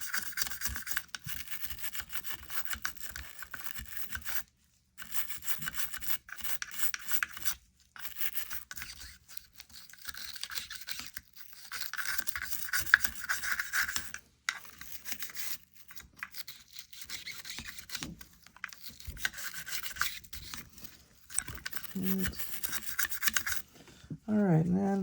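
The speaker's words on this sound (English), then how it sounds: "we're going to go ahead and use our brush here, kind of" A brush scrubs an AR15 rifle during cleaning in repeated close rasping strokes with short pauses between them, running steadily throughout.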